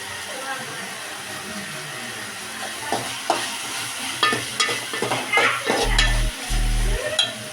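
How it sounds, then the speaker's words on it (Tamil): Onions and tomatoes sizzle and fry in a pan for egg gravy while a spoon stirs and scrapes, with a few clinks and a low hum near the end. "பாருங்க, நல்லா தக்காளி வெங்காயம் எல்லாம் நல்லா வதங்கிடுச்சு"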